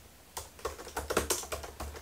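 Keystrokes on a MacBook Pro 16-inch laptop keyboard, tilted on a cooling stand, tapping out a quick irregular run of about a dozen close, crisp clicks with no talking.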